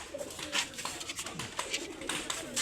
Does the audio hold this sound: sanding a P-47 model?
no